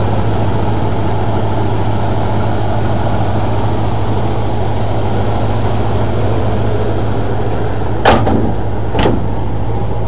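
A Ford Bronco engine idles steadily up close, a constant low rumble with even tone, broken by two brief clicks near the end.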